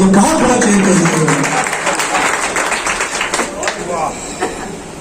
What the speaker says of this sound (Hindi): दोस्तों, शेर पर तो भरपूर ताली होना चाहिए